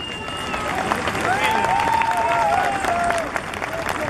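Sustained audience applause at a recognition ceremony honoring masters of Ayacucho music, a dense wash of clapping that swells and holds steady for several seconds, with faint tonal sounds drifting over it.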